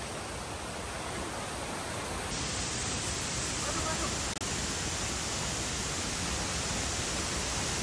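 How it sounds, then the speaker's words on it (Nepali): Steady broadband roar of a waterfall heard up close, loud and constant throughout with no clear voices, its spray cooling the air on a hot day. "झरनाको अवलोकन पनि गरियो।"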